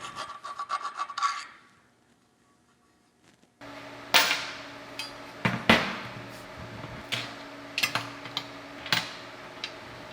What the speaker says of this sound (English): So I'm just gonna file that by hand so I can get the ear to fit in there real nice.